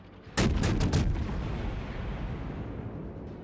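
Battleship main guns fire in World of Warships: a rapid salvo of several loud, close booming shots in quick succession, followed by a long rumbling decay and reverberation with no talking.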